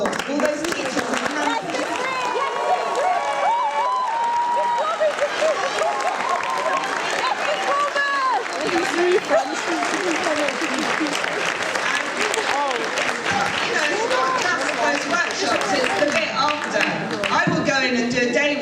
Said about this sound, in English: So please could they all stand up and have a round of applause.